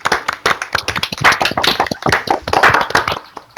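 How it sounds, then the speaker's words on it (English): An audience at a speaker event claps steadily and close by, a dense patter of individual hand claps that continues throughout before thinning slightly at the end. "So if everyone would be happy to give Ken a second round of applause, that would be brilliant."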